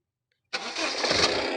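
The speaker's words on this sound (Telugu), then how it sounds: "సింగిల్ సెల్ఫ్ అయితే బండి స్టార్ట్ అవుతుంది" A 2015/16 Honda City diesel SV with 82,000 km cranks once after a short silence and catches immediately, settling into a steady, gruff diesel idle close by, with no voices.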